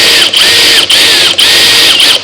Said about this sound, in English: so with my drill, with a socket on it, right, if I want to prime the oil, I can just go like this